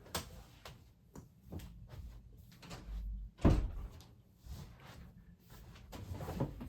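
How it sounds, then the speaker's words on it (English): Two household doors, a closet door and then a bedroom door, bump shut indoors, with a sharp, louder thud near the middle among softer knocks and creaks, no talking. "I closed the closet door and I didn't realize that the actual door to the bedroom was open."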